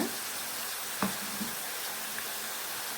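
Potato chips frying in hot oil, a steady, dense sizzle that holds close and even throughout, with a couple of faint knocks and no talking.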